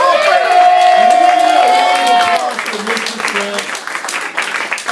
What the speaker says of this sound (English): Let's get a round of applause for Alfredo,